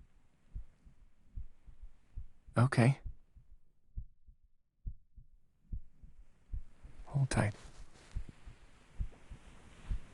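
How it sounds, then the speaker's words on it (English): Soft, close heartbeat thumps repeat steadily in an intimate bedtime setting, a low muffled rhythm running throughout while a voice speaks briefly twice over it. "Are you listening to my heartbeat?"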